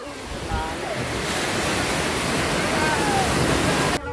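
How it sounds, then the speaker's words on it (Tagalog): Heavy surf roars continuously close by at Baler, Aurora, a dense rushing wash of waves with wind buffeting the microphone and faint voices beneath. "Lakas ng alon."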